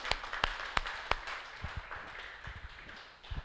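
A church congregation claps in praise of the Holy Spirit during a Portuguese-language sermon: a handful of sharp claps stand out early, then softer scattered claps trail off over a faint room background.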